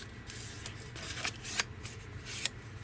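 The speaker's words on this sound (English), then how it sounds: "we'll fold it in half first" A glassine bag being folded in half gives a few soft, crisp papery crinkles and rustles, quiet and close, with brief sharp creases among light handling noise.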